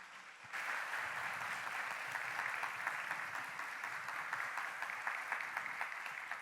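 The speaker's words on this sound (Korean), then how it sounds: "여러분 뜨거운 박수로 환영해 주시기 바랍니다" A congregation at a church service breaks into warm applause to welcome a visiting missionary speaker, the clapping starting abruptly and continuing steadily as a dense, even patter from many hands.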